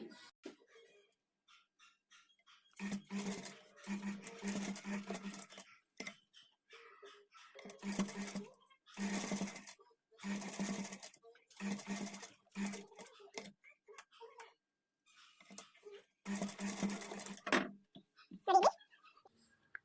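Sewing machine stitching lace onto the back neck of a patchwork blouse, heard as several short bursts of steady mechanical whirring separated by pauses, fairly close and alone with no talk.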